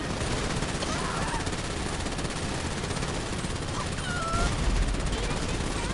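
Gunfire in the GTA Online video game as a full magazine is unloaded, a dense continuous rattle of rapid shots throughout with a slightly louder burst near the end.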